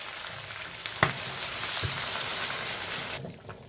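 Water poured onto fried masala for duck curry, bringing a loud rushing sizzle that swells after a sharp clink and then cuts off abruptly near the end.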